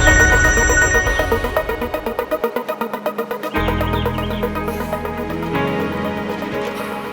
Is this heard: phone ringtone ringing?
yes